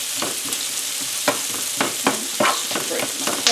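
Onions fry in a pan for a Salisbury steak onion gravy, a steady close sizzle broken by several sharp scrapes and stirs of a utensil against the pan, with no talking.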